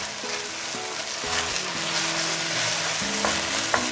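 Flat rice noodles stir-fry in a smoking-hot wok with a loud, dense sizzle, while a spatula scrapes and tosses them now and then. The sound is continuous and close.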